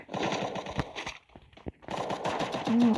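Video game gunfire rattles off in rapid bursts of sharp shots, pauses briefly for a few isolated cracks, and then resumes as another dense volley close by.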